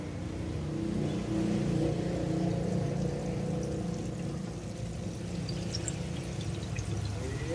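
Chicken pieces coated in seasoned flour, fried KFC-style in hot oil over lowered heat, give a continuous low, even bubbling sizzle up close, steady for the whole stretch with no talking.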